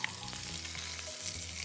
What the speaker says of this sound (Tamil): கொஞ்சம் எண்ணெய் எடுத்து கடுகு, சீரகம், அப்புறம் காஞ்ச மிளகா, வெங்காயம் அண்ட் கருவேப்பிலை போட்டு இப்போ வதக்கிக்கிறேன்.